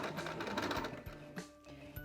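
A sewing machine bastes the raw edges of a pleated fabric face mask, a quiet close whir of rapid stitching that slows and stops briefly before restarting, with no talking.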